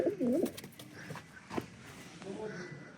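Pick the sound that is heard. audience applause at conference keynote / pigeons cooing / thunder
pigeons cooing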